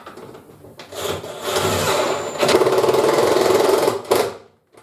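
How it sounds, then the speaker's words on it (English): A power drill drilling into a wall whirs in a sustained high-pitched burst, pausing briefly before spinning up again and stopping abruptly, close and loud. "Just drill this into the wall."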